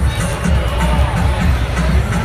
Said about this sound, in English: This is some audio just from the crowd.